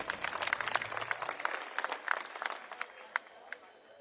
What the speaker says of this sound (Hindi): मैं चाहूंगा एक बार जोरदार तालियां अपने लिए आप लोग बजा लीजिए।